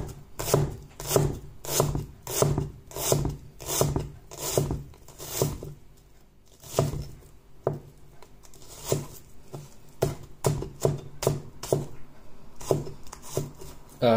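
A thick-bladed James Martin meat cleaver by Stellar dices an onion, each cut landing as a sharp, close knock on the board in quick rhythmic bursts with short pauses between runs.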